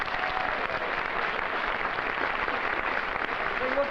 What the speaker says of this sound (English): What do you say we give them a nice round of applause